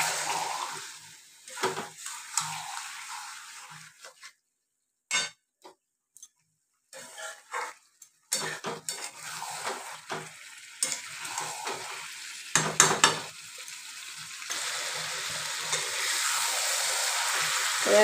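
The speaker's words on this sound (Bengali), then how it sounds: "এবারে কষাতে থাকবো।" Chicken curry masala sautés in a pan, the soft sizzle of frying interrupted by irregular scraping and clinking stirring strokes, with brief near-silent gaps between bursts, moderately close.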